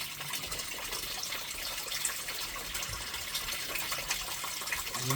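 Water rushes steadily through a small jock gold sluice, washing half-inch gravel paydirt outdoors in a continuous, moderately loud wash with no talking.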